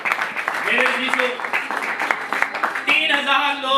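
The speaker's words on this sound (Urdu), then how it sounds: "آئے اس یسوع کے لیے دونوں ہاتھ اٹھا کر زوردار تالی بجائیں۔" A church congregation at a sermon claps in a dense burst of applause that runs under a prominent voice throughout.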